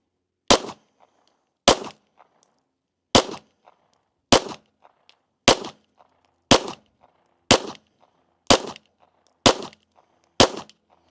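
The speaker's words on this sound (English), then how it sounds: "Let's shoot a 10-shot group at the middle right." Ten pistol shots from an EAA Girsan MC9 Disruptor firing Hornady 115 grain rounds, sharp loud cracks spaced about a second apart, each with a short echo tail, with quiet gaps between them.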